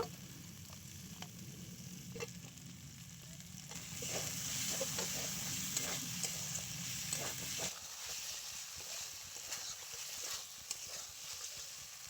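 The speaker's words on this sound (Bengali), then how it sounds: "আর আলুটা দিয়েও বেশ কিছুক্ষণ কষিয়ে নেব" Potatoes and spices are stir-fried in a pan for a sea crab curry, giving a quiet, steady sizzle with repeated light taps and scrapes of a spatula.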